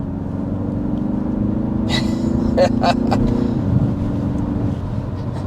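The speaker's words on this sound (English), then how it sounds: "Put your foot down, it does downshift and give you power." A 2023 BMW 3-Series plug-in hybrid sedan accelerates as its 8-speed automatic downshifts, a low steady engine hum rising in pitch with a few sharp transient knocks midway, heard from inside the cabin.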